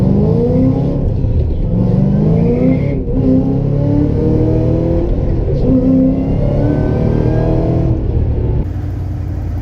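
A 700 hp Ford Mustang GT500 on Nitto NT05 315 drag radials accelerates hard with a loud, close engine roar rising through the gears and continuous tire noise throughout.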